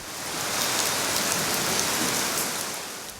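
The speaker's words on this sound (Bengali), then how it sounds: "ফলে দেশের বিভিন্ন এলাকায় দেখা গেছে বৃষ্টি" Monsoon rain pours steadily in Bangladesh, a dense even hiss of drops striking surfaces that swells slightly and fades, with no voices.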